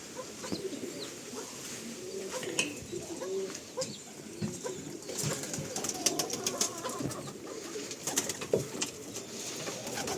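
Pigeons coo repeatedly nearby, low throaty calls overlapping against a busy outdoor background with occasional sharp clicks and rustles.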